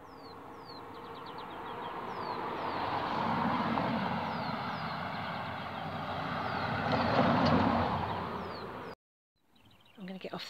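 Steady broadband road noise from passing cars on a main road beside the Wessenden reservoirs in the Pennines, swelling and fading as vehicles go by, with wind buffeting and faint bird chirps, ending in a brief silence.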